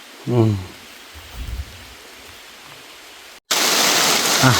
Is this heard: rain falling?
yes